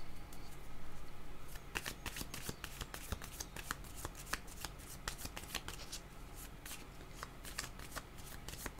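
Tarot cards shuffled by hand close up, a long run of rapid papery riffles and soft flicks, fairly quiet with no talk.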